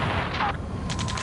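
Gunfire in the Ace Combat 7 video game, dense bursts of rapid shots forming a loud, continuous fusillade over a rumbling battle background, with faint voices mixed in.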